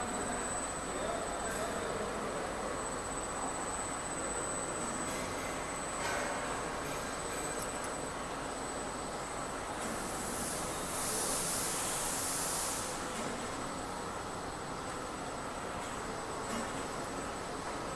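The motor of a TIG welding window frame forming machine runs as a steady, dense industrial roar for the whole stretch, with faint high hissing and clatter layered over it. The noise is constant, with no clear breaks.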